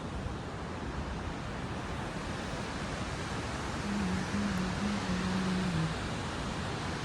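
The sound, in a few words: Kumbhe waterfall flowing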